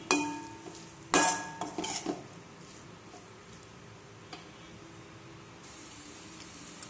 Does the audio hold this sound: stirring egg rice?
yes